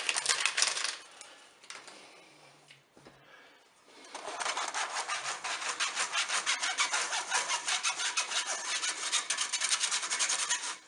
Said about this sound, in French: Je dépose un tamis sur mon saladier. Je vais mettre ma farine.